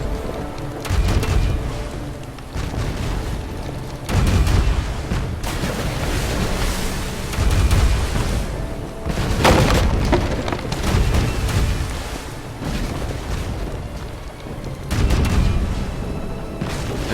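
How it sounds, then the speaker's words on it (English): Ship cannons fire in Pirates of the Caribbean Online, a pirate naval battle game, sending heavy rumbling booms in repeated volleys every few seconds over a constant roaring din. "It's pretty much like I shoved 3 cannons into the barrel and fired them all at once."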